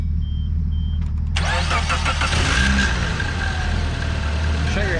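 A car engine cranks and catches while being jump-started with an Awanfi portable jump starter, then runs loud and rough close by, with people talking over the engine noise.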